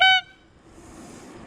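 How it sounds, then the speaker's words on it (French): A single short, loud bike horn blast opens the moment and cuts off after a fraction of a second, leaving faint road and wind noise. "C'est pour ça qu'il faut avoir un gros klaxon."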